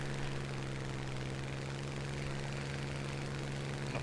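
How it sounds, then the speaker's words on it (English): Spitfire Mark 1 fighter's powerful piston engine in War Thunder, a steady droning roar with a strong constant hum, running evenly and alone without any talking. "Incredibly powerful engine."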